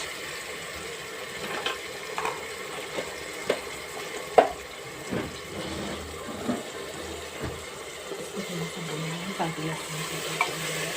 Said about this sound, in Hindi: इसको थोड़ा सा भूनना है ताकि अदरक लहसुन का पेस्ट घुल जाए अच्छे से।